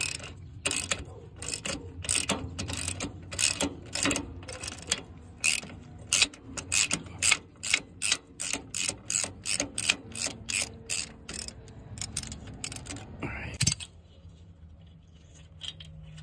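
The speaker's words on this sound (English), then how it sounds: "I'm gonna continue removing the nut" Rapid bursts of ratchet clicking from a ratchet wrench working a nut loose, coming in quick repeated strokes with short pauses, close and fairly loud, then a sharp metallic clank near the end followed by quieter handling.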